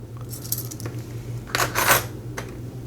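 Small metal hobby files clink and rattle against each other in a few short, bright bursts, handled close by in a quiet room.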